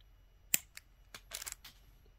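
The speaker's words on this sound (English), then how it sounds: "So then you're going to trim off your excess." Several sharp snips of wire cutters trimming excess beading wire while making SoftFlex earrings, close and isolated, with one crisp click followed by a quick cluster of smaller cuts.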